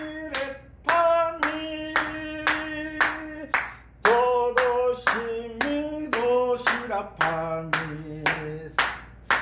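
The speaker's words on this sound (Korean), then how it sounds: "이렇게 손뼉을 치면서" Sharp hand claps keep a steady beat, about a dozen of them over nine seconds, while a voice sings note names along with the rhythm during an accordion lesson.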